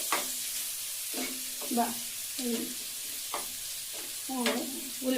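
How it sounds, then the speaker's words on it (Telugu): Turmeric frying in a pan with oil for a spinach and moong dal curry, a steady close sizzle broken by several brief scraping stirs of the spatula. "పసుపు, బాగా ఫ్రై అయ్యే వరకు వేగించాలి."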